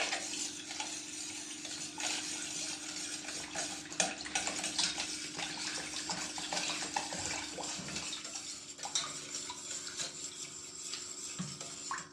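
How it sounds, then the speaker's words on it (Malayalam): Water is poured into a cooking pan over caramelised sugar, giving a steady splashing, bubbling rush with occasional clinks, close and moderately loud, with no talking. "നമുക്കിനി വെള്ളം ഒഴിക്കാം."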